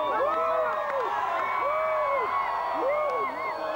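An Albanian crowd cheering and shouting in the street in Podujeva in 1999, with whoops and raised voices rising and falling at a steady distance under a layer of speech.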